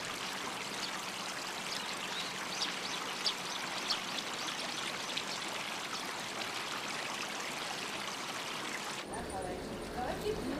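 Water from a carp-filled tank spills back into a man-made village channel in rural Japan, a steady, close, continuous stream with a soft trickling texture that ends abruptly near the end.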